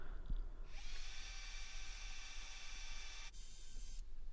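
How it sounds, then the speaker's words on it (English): A power drill bores through a pallet wood snowman ornament: a steady, close high whine sustained for several seconds, then a brief change in pitch before it stops, over faint background hum. "So I then drilled through"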